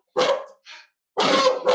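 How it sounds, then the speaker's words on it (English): A dog barks close by: one sharp bark, a shorter softer yelp, then after a pause another loud bark followed by a fourth starting. "Sorry for my dog."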